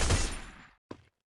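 A UMP submachine gun fires in the Free Fire mobile game, a loud burst of rapid shots decaying away, followed by one short thump, with no talking.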